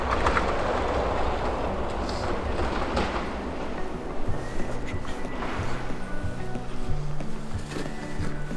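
A truck rumbles past during a wild boar hunt in the snow in Sweden, a steady, continuous roar with a rhythmic rattling, close and loud throughout.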